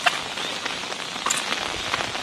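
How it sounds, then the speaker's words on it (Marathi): Heavy monsoon rain pours steadily in rural Maharashtra beside flooded roadside fields, a dense, close, continuous hiss with scattered heavier drop impacts and no voices. "पण आमच्या इकडे भरपूर पाऊस आहे"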